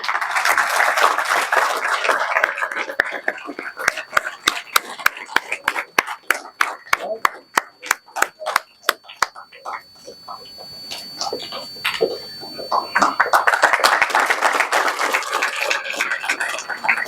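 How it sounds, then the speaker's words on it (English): Audience clapping at an orthopedics department event at a medical college in Jaipur: a few seconds of dense applause, then thinning to sparse, separate claps with pauses, before a full burst of clapping swells again near the end. "Audience, please clap."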